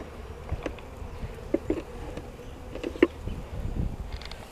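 Honey bees buzz around an open nuc box while honey is being pulled, a soft continuous hum with a few brief louder passes of insects flying close, plus some faint handling noises.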